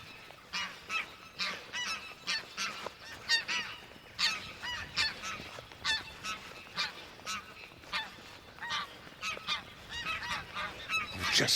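Greylag geese honk repeatedly in a noisy, overlapping chorus, loud and close, with calls coming in quick irregular bursts.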